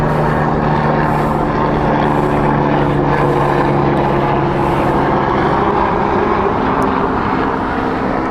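An airliner banking on approach to Heathrow Airport, its engines making a steady loud drone with a low tonal hum and broadband rush that holds throughout, heard alone without talk.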